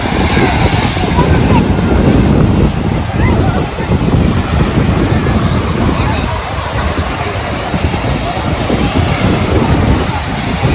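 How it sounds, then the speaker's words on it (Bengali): Strong sea waves on Gopalpur beach, a loud continuous roar of surf mixed with wind buffeting the microphone, with people talking nearby. "দেখতেই পাচ্ছ প্রচণ্ড কিন্তু ঢেউ রয়েছে"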